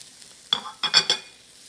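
Vegetables including carrots are stirred in a hot pan for Szechuan shredded tofu, giving a few short bursts of sizzling and scraping over an otherwise quiet background.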